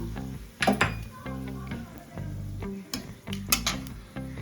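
Bay leaves dropped into hot oil for tempering, with a fish, cauliflower and potato curry in progress, sizzle and crackle nearby amid quick clinks and scrapes of a utensil against the pan.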